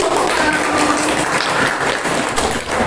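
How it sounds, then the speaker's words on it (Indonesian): Applause from a classroom of students for a student group, a steady dense clapping wash lasting the full three seconds with no talk over it. "Kita beri aplaus untuk kelompok"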